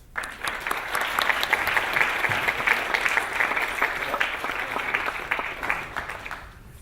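Audience applause welcoming lecture speaker Scott Smith: a sustained round of clapping from a seated crowd, dense and even, swelling quickly then fading out after several seconds.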